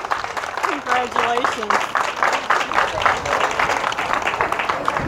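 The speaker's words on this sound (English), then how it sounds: "Come a round of applause for that trophy, huh?" Audience applause at the J.C. Whitney car show awards, a steady wash of clapping that runs through the whole stretch while an announcer speaks over it on a loudspeaker.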